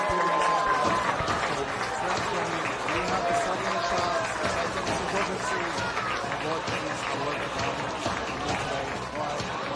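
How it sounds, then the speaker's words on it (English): A large crowd at a men's soccer match claps and cheers steadily, a dense, continuous wash of applause with voices mixed in throughout. "let's clap a little bit"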